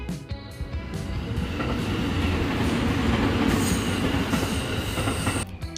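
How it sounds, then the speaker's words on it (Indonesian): A train rolls past close by along a city street in Solo, Indonesia, with a loud, continuous rumble, rattling wheels and some metallic squeal, swelling in the middle and easing off at the end. "Kamu bisa aja tiba-tiba melihat kereta api lewat di tengah jalan raya seperti ini."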